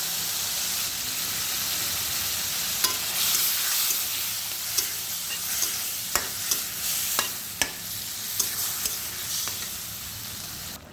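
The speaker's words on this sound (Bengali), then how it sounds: "মশলাটা কষানো হয়ে গেছে, এবারে দিয়ে দেব মাছগুলো।" Tengra fish sizzling and frying in a spiced masala, a steady loud hiss broken by sharp stirring clinks from a spatula against the pan, no voices.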